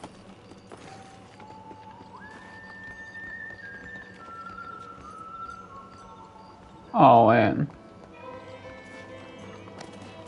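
A horse in the video game Red Dead Redemption, with soft hoof clip-clops under background music, then a loud close neigh near the end, and a brief spoken exclamation.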